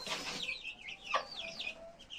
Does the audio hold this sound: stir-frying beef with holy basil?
no